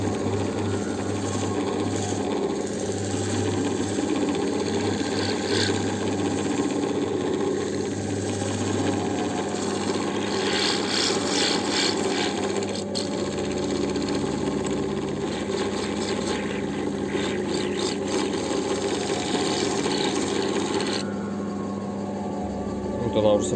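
A lapidary machine polishing a stone cabochon, a steady whirring motor hum with faint grinding scrapes, continuous and close, with someone talking over it.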